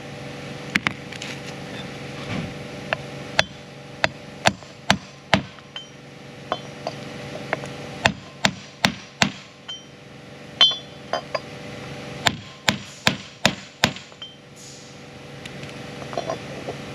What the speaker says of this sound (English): you're just going to pound them in there